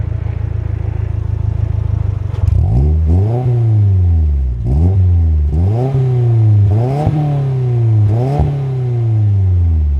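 A 2024 Subaru WRX with a manual gearbox pulls away from idle, its engine revving up repeatedly in quick rising sweeps with short dips between gear changes, loud and close.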